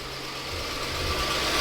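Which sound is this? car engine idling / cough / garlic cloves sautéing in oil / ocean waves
car engine idling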